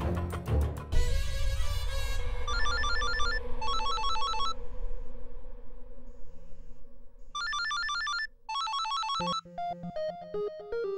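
A telephone rings in a Hindi TV serial, its electronic ringtone repeating in short tonal bursts over a background music bed, loud and close, with a melodic phrase taking over at the end.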